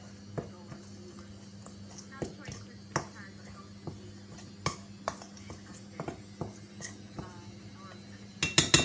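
Freshly roasted pistachios are stirred in a bowl, giving scattered light clinks and taps spaced through the moment, then a quick cluster of clattering at the end, with soft talk underneath.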